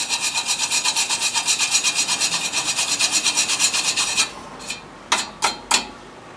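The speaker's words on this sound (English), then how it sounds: "you clean the area with a stainless steel brush" A stainless steel wire brush scrubs an aluminum surface on a teardrop trailer hinge repair, a rapid steady rasping of quick back-and-forth strokes that stops, followed by a few separate scraping strokes.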